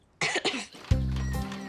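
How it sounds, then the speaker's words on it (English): A person gives a short double cough, quickly followed by a brief voiced throat sound, close and clear against near silence. "I just coughed."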